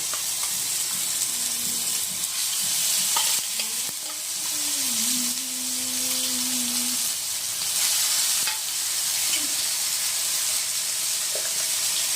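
Paste of ginger, green chili and tomato frying in a pan with cumin, giving a steady broadband sizzle and hiss with occasional stirring scrapes, fairly close and continuous, with no talking.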